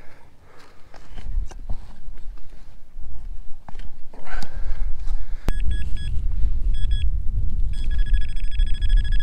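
Metal detector signal tones beep in several short high-pitched pulses over wind and field noise while detecting in an English village, with someone talking before the beeps start.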